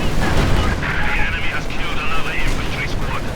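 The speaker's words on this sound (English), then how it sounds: "mortar fire takes out the anti-tank" Mortar fire and battle explosions in the strategy game Company of Heroes 2, dense booming impacts and rumbling blasts packed together loudly, with a caster's voice talking over the din throughout.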